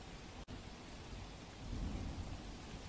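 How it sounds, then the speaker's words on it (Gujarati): Heavy rain pours down in a coastal area of Dwarka during a thunderstorm with gusty winds. The downpour is a dense, continuous roar of falling water that swells louder partway through, with a brief dropout near the start. "દરિયાકાંઠાના વિસ્તારમાં અત્યારે વરસાદ થઈ રહ્યો છે"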